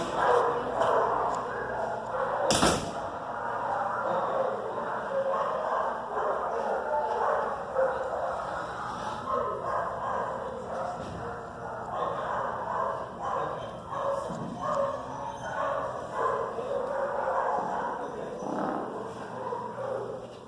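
Dogs in a shelter bark and yip throughout, with whimpers and a low growl now and then. The sound is moderately distant and continuous, with a sharp bang near the start and occasional voices under it.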